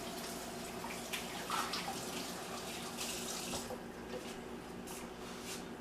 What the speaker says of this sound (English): now let me rinse my hands off.